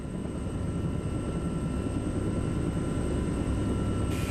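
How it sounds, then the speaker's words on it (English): A steady, loud rotor drone fills the whole stretch, a troop helicopter's engine roaring close by without pause. "Major Mickleby makes the critical decision to bring in the troop helicopters."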